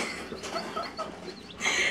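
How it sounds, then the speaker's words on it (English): Chickens cluck and chatter nearby in short, irregular bursts, with a brighter squawk near the end; no talking. "We got chickens!"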